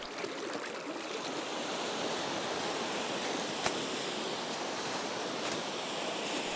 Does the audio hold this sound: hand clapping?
no